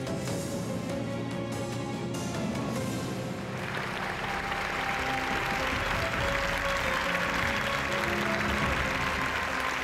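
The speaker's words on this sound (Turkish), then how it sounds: "Alkışlar eşliğince Mustafa Sarıgül" Studio audience applause at a Quran recitation competition, a dense wash of clapping rising midway and continuing loudly to the end over faint background music.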